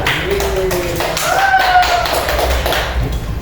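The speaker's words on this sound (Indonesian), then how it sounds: "silakan dulu tepuk tangan" A group of children in a classroom clap their hands together in a dense, steady burst of applause, with voices mixed in underneath.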